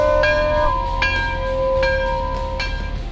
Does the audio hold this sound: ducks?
no